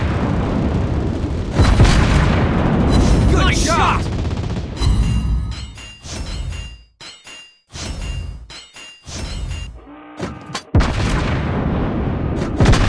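Naval gunfire from a Tier 6 Soviet cruiser Molotov in World of Warships Blitz: loud booming salvos and shell impacts in irregular bursts, separated by short gaps, with chiming hit alerts and game voice callouts.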